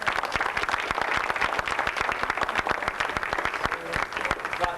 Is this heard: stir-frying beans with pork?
no